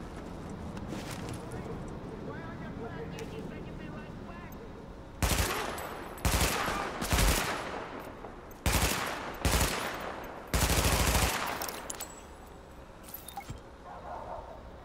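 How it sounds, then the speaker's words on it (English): Gunfire in Tom Clancy's The Division: several loud bursts of automatic fire, some long and some short, cut through quieter game ambience and soft talk. "I saw shots behind me."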